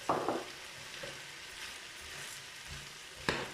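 Rice being stirred into vegetables in a hot oiled pan, with soft scraping and a light sizzle, a clattering stroke at the start and another near the end, nearby and fairly quiet.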